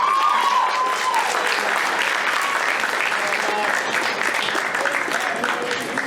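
An audience applauds student debaters at a university debate event, sustained clapping from a crowd throughout, with a voice speaking briefly over the start.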